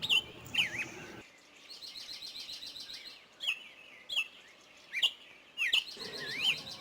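Birds chirp and tweet in short, bright bursts, several calls repeating at intervals over a quiet background.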